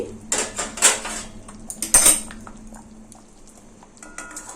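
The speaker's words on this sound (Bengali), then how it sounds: "আমি ঢাকাটা খুলে দিচ্ছি।" A lid comes off a cooking pot of thin hilsa fish curry with black cumin and green chillies after simmering on a medium gas flame. A few sharp metallic clanks and clinks come close together near the start, then quieter bubbling.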